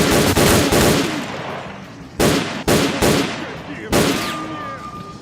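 Gunfire rings out in the video game S.T.A.L.K.E.R.: Clear Sky, where snipers with silenced guns are shooting. Several loud, sharp reports come in uneven bursts with echoing tails, close and punchy.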